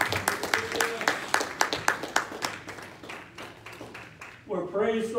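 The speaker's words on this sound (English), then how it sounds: "give our man to God a round of applause" A church congregation claps, the sparse, rhythmic hand claps quite near and fading before a voice breaks in at the end.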